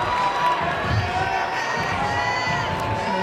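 A crowd at an IFSC World Cup bouldering final in Salt Lake City cheers a climber on, a steady wash of shouting and whooping held loud throughout.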